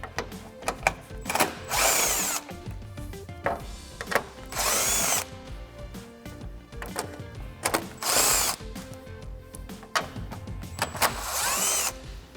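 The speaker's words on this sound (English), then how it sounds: "Now I'm going to take my 10mm socket on my impact gun and remove the 4 10mm up top" Impact gun with a 10mm socket zipping off bolts on a Toyota Tundra front end, several loud close bursts of rattling hammering separated by pauses and handling noise, no voices.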